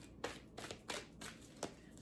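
A deck of cards is riffled and shuffled quietly in several short, crisp bursts, about five quick flutters in two seconds, heard close up in an otherwise quiet room.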